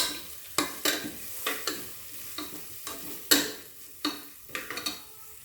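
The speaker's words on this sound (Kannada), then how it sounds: "ಆ ಹೆಸರುಬೇಳೆದು ಹಸಿ ವಾಸನೆ ಇದೆ ನೋಡಿ, ಅಷ್ಟು ಹೋಗೋ ತನಕ ಫ್ರೈ ಮಾಡ್ಕೊಳ್ತೀನಿ" Moong dal dry-frying in a pan for payasam, a series of distinct spatula scrapes and clinks against the pan at an uneven rhythm over faint sizzling, close and quiet, no talking.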